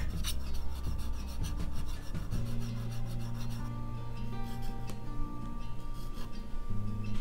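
The back of a plane iron is rubbed flat on a sharpening stone in a steady, close rasping scrape, strokes rolling on continuously with faint tonal ringing underneath.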